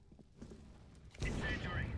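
A thrown incendiary bursts into flame in CS:GO, a sudden whooshing roar of fire that swells after quieter in-game noise and keeps burning loudly to the end, with voices talking early on.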